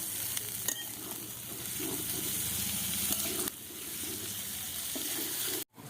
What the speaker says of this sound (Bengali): ধনেপাতা কুচি দিয়ে একটু নেড়ে নেব।